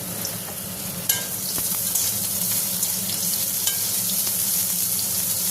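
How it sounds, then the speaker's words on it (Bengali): Potato and carrot fry together in oil in a wok, giving a steady, close sizzle with occasional small clicks and stirring knocks and no voices. "আর গাজরটা একসাথে ভেজে নেব।"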